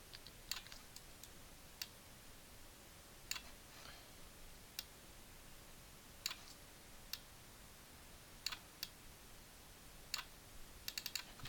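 Sparse computer keyboard key presses, Control and Command shortcuts tapped while working in image-editing software: faint, isolated clicks spaced irregularly over a quiet room background, with a quick cluster of taps near the end.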